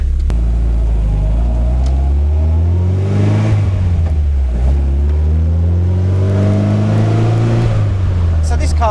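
Mazda-based MK Indy RX5 kit car engine under way, heard from inside the cabin with a loud steady drone that rises and falls through gear changes, with a faint whistle on top and the driver talking over it.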